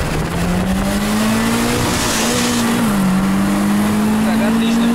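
A VAZ 2114 with a 16-valve engine accelerates hard while racing a Priora, its engine drone rising steadily in pitch, dipping briefly at a gear change, then climbing again, loud and continuous from inside the car.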